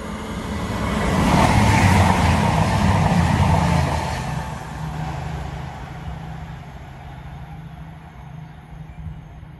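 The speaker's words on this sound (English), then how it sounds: "So Matlock, Nottingham service, accelerating away from Duffield Station, about a quarter mile south of the station." A Matlock to Nottingham passenger train accelerates away from Duffield Station, heard about a quarter mile to the south: a broad rumbling roar that swells over the first few seconds and then slowly fades as it moves into the distance.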